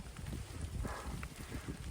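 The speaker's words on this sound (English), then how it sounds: "it's a bit windy. It's also a bit rainy" Wind buffets the microphone on a rainy mountain top, giving a brief, steady, rumbling roar up close with gusty flutter, and no voices.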